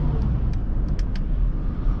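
A 2021 Maybach GLS600 luxury SUV drives along, giving a steady low rumble of engine and road noise with a few faint light clicks, close and continuous.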